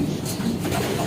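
Pigeons, racing birds kept for sprint competition, coo softly in a low murmur with faint chirps, a steady close chorus with no talk.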